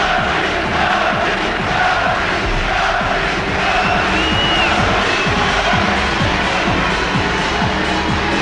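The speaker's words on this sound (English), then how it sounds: "The crowd here are certainly enjoying every moment of this" A boxing arena crowd at a Prince Naseem Hamed featherweight fight roars and cheers, a loud, dense, continuous wall of voices that holds steady throughout.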